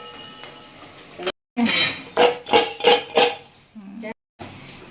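Crispy fried nimki snack snaps and crunches as pieces are broken, several quick crisp cracks in a row, close and distinct, with brief clinks against a plate.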